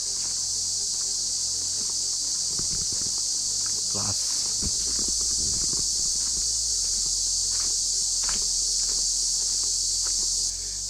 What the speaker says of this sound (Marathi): जबरदस्त रातकिड्यांचे आवाज येत आहेत.